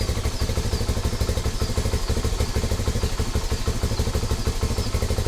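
A Rusi Flash 150X V3 motorcycle with a cold engine idles loudly and close by. The steady, chugging beat stumbles now and then with uneven misfires, and no other sound covers it.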